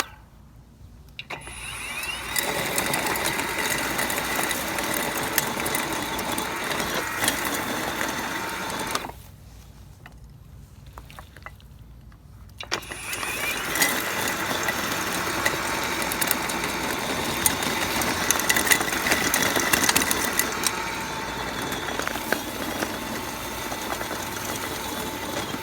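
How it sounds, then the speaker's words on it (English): A Sun Joe ION12TL-CT 40V 12-inch cordless electric tiller and cultivator runs with a steady motor whine and churning tines, briefly stopping partway through before restarting and running on evenly. "hit this button and pull, and boom, we've got spinning blades."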